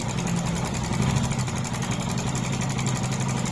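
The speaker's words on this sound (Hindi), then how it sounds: "इसमें जो टाइमिंग चेन का प्रॉब्लम है, टाइमिंग चेन साउंड मार रहा है।" A Hero Glamour 125 motorcycle engine idling with a timing chain fault, giving a steady, close mechanical drone with a fine rattling clatter running through it, heard alone without talk.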